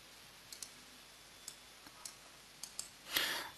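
A few light mouse clicks, soft and close, spaced irregularly as a pen tool is picked in Civil 3D 2010 drafting software, followed by a brief rustle.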